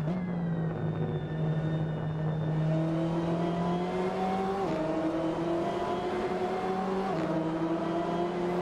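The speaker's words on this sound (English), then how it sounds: "The downshifts add an aggressive crackle to the exhaust note" URD Bayro EGT race car in the Assetto Corsa video game, its engine droning steadily as it pulls through gears, with pitch steps on downshifts and a harsh, aggressive exhaust note running loud and close throughout.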